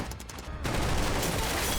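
A dense burst of gunfire erupts suddenly in a triad shootout scene, rapid overlapping shots forming a loud, sustained fusillade after a brief quieter lead-in.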